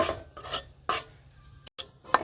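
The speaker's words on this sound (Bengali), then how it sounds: "সুজিটাও হালকা ভেজে নিব" Semolina being lightly fried for khichuri in a pan on a village kitchen stove, heard as a few scraping stirs of a spoon against the metal with soft rasping in between, close and fairly quiet.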